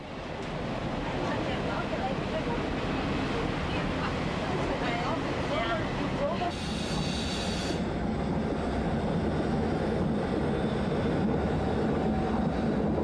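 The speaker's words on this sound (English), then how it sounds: "An intercity train departs, leaving Venice for another wonderful Italian city, Florence" An intercity train leaving Venice for Florence gives a continuous broad rumble throughout, with a brief hiss partway through. A voice speaks over the noise.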